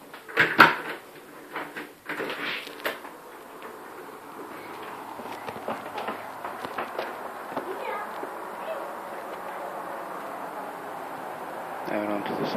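A door leading outside from a home opens with a few close clunks and rattles at the start, followed by softer handling knocks and faint room noise, with a voice talking nearby.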